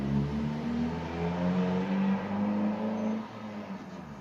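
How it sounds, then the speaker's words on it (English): A noisy car passes outdoors with a droning engine tone that rises and holds at moderate loudness, then drops away as the vehicle moves off. "just wait for the car to go, noisy car to go past."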